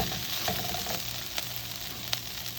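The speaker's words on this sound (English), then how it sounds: "My onions are starting to look a little translucent, but I definitely want my green peppers a little softer than that. So we're just gonna keep sauteing a little bit longer." Onions and green peppers sizzling steadily in a hot pan as they sauté for keto Philly cheesesteaks, a continuous close frying hiss with a couple of brief stirring clicks.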